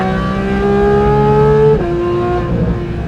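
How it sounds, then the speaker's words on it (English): A Porsche track car's engine roars loud and close, holding a sustained high-revving note that drops sharply in pitch partway through before building again. "The engine roar."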